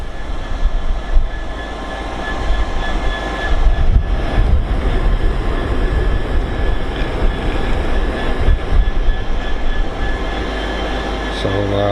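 Low rumbling drone of train 158799 arriving at Doncaster station, steady engine and rail noise with a few clunks, moderately loud and continuous throughout.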